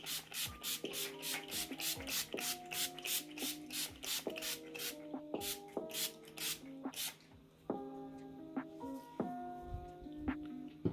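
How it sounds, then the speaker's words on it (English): Quick bursts of a fine setting spray misted onto a face hiss repeatedly in a rapid series, close and fairly quiet, with a soft tonal hum underneath. "I don't know why I sprayed my face that much"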